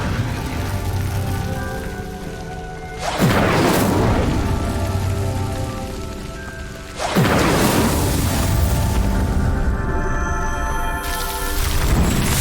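Incendio fire spell cast in Hogwarts Legacy, two loud whooshing bursts of flame a few seconds apart, each followed by a sustained crackling roar over a low musical backdrop.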